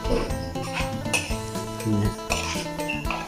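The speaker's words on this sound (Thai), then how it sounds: "หยิบช้อนขึ้นมา ตี มีไข่นะครับ" A spoon beats seasoned eggs in a bowl in a rustic home kitchen, giving a fast run of clinks and taps against the dish, close and fairly loud, with someone talking over parts of it.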